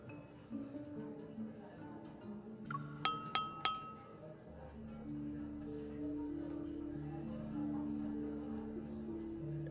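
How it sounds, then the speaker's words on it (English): Glasses clink together at a banquet in the video game Love and Deepspace, three bright quick chimes ringing over a low hum of music and murmur. "the crisp sound of clinking glasses captures everyone's attention"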